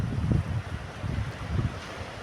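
Small waves break on a shore at sunrise, one after another, with gentle rolling whooshes over a steady low rumble and some wind.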